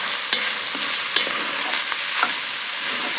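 Onions frying over direct heat in a pot for turkey butternut squash chili, a steady broadband sizzle with occasional soft clicks of stirring, close and alone without talk.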